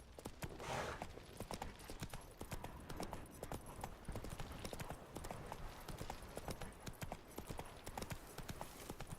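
Roach, the horse in The Witcher 3: Wild Hunt, trots with a quick, even clip-clop of hoofbeats that runs throughout, quiet in level.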